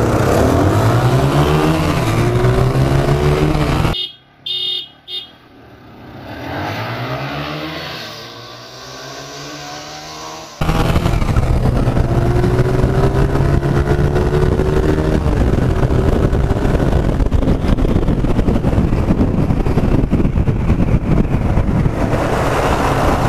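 TVS Apache RTR 160 and 180 motorcycles race at full throttle in a drag race, their loud engines climbing through repeated rising gear sweeps, dipping briefly mid-run, then roaring back up close and steady.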